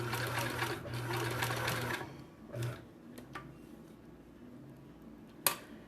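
An old, basic sewing machine without automatic needle-down stitches in a steady whirring run for about two seconds, then stops, leaving quieter handling clicks and a sharp knock near the end.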